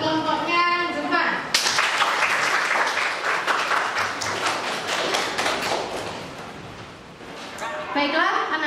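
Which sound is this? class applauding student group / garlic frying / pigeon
class applauding student group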